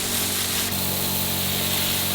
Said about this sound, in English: Again, I'm spraying to,